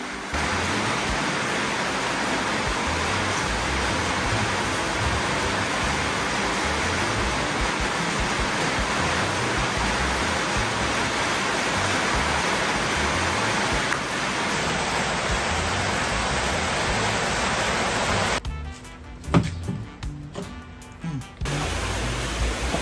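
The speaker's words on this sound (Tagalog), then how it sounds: "Lakas ng ulan dito eh." Steady, dense hiss of heavy rain pours continuously, loud and unbroken, with a brief clattering patch near the end.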